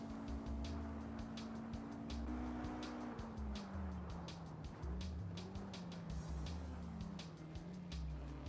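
Porsche 718 Cup race car in a video game drifting lightly into the last turn at Norisring, with steady engine drone shifting pitch, low rumble and faint tire noise throughout.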